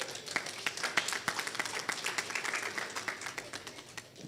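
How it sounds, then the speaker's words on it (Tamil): Applause for parents at an inaugural function of an Indian pen-friends association branch in Bahrain, a fairly quiet but continuous patter of many hands clapping with distinct individual claps standing out. "குறைந்த காலகட்டத்தில் சொல்லிக் கொடுத்த பெற்றோர்களுக்கு மாபெரும் கைத்தட்டல்"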